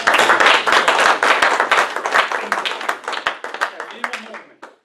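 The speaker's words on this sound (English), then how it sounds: "That's good, give her a round of applause." Clapping from an audience at a psychic or mystic stage show, a burst of close applause that thins into scattered claps and trails off near the end, with voices over it.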